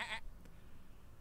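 A sheep bleats once in a video game, a short bright bleat right at the start, then only a low, steady background hum with no talking.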